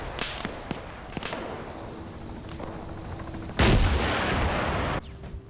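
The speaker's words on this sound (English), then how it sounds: "a very pissed off AT man just shot a rocket at you" An anti-tank rocket fired in the Vietnam War shooter Rising Storm 2: Vietnam bursts out as a loud, sudden blast amid scattered distant gunfire, roaring for over a second before cutting off.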